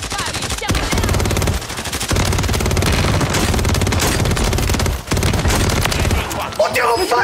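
Rapid bursts of video game gunfire from a Wild West shooter crackle almost continuously at close range, with frantic streamers shouting over the shots.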